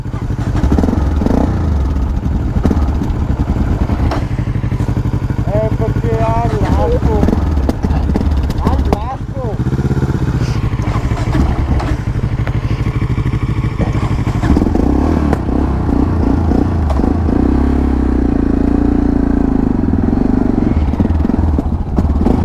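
A Yamaha MT-03 motorcycle being ridden, its engine a steady low drone with shifting pitch and wind buffeting, while a rider talks over it almost the whole time.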